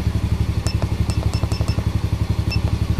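A Yamaha motorcycle engine runs close and loud during an RPM limit test, with a rapid, even pulsing beat and a few sharp mechanical clicks over the top.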